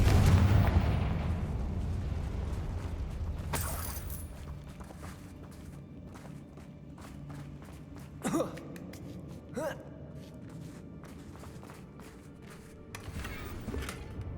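A Confringo fire spell in the Hogwarts Legacy video game bursts with a sharp blast, followed by scattered impact booms and a couple of sudden hits over low, quiet game ambience.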